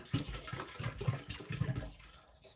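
Liquid pours into the water reservoir of a hydroponic Farmstand, a soft, gurgling flow with uneven splashes that fades near the end.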